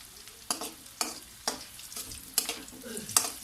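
Ginger sautés in a pan for arroz caldo, a soft sizzle broken by about six regular scraping stirs, close and fairly quiet.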